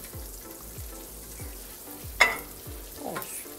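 Sucuk sausage fries in margarine on a grill for Adana-style pressed toast, giving a soft, steady sizzle with regular low thumps and one sharp clink partway through.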